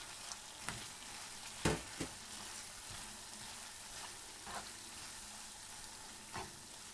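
Pre-fried carrots tipped into stuffed peppers stewing in a multicooker-pressure cooker, giving a soft continuous sizzle with a few sharp clinks and stirring knocks scattered throughout, no voices.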